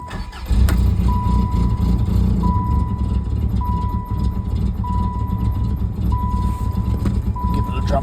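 A 1994 Plymouth Acclaim cold starting: the engine catches after cranking and settles into a loud, steady idle, with a repeated electronic beep recurring every second or so over the running engine.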